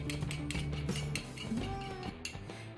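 A salted mixture beaten in a bowl with a utensil, giving quick, quiet clinking and scraping strokes against the dish in a steady rhythm, close and fairly soft, with no talking.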